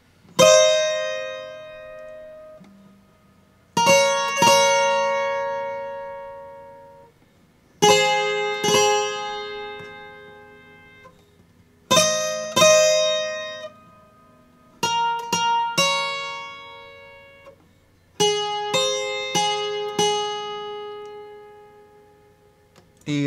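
A slow, high-pitched requinto guitar melody, each phrase ringing out and fading before the next, played alone and up close.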